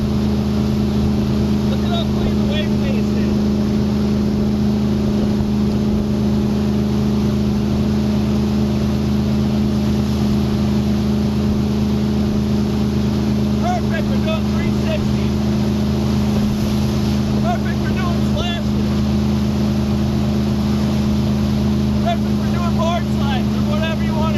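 A 2020 Centurion Vi24 wake surf boat with silent tip exhaust runs on the water, a loud, steady engine drone with wind buffeting and faint voices under it.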